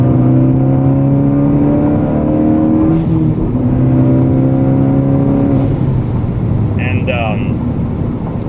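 A 2013 Ford Focus ST accelerates hard out of turns, its engine note climbing steadily in loud, rising harmonics with shifts in pitch, while someone talks over it.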